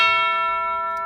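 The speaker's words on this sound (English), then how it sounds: "Say you wanted to put like the Tubular Bells behind the string section." A single struck tubular bell from a percussion sample library rings out with a bright metallic tone and a long, slowly fading sustain, heard alone.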